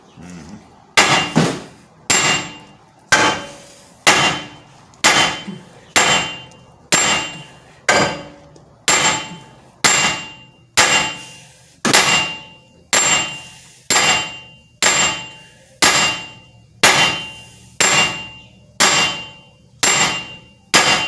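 Steady, evenly spaced metal-on-metal hammer blows, about nineteen loud ringing clangs roughly a second apart, pounding to free a seized hub bearing on a 2012 Lincoln MKS.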